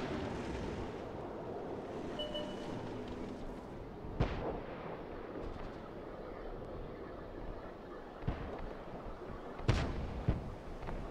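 Artillery fire in the tank battle game World of Tanks, heard as a few sharp, heavy booms spaced several seconds apart over a rumbling battlefield background.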